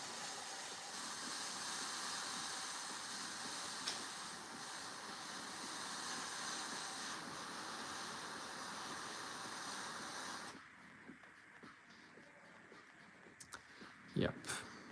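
A Warhammer miniature being airbrushed with paint, a steady hissing spray running continuously for about ten seconds before cutting off, then quieter handling noises and a few small clicks.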